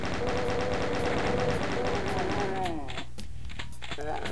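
Rapid chaingun fire in Doom II, a dense stream of rattling shots in the Factory level, loud and continuous for about two and a half seconds before breaking into scattered bursts and game noises.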